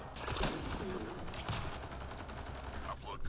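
Rapid bursts of gunfire in a Mass Effect: Andromeda multiplayer match crackle steadily throughout, dense and continuous, with a few sharper shots standing out near the start and end.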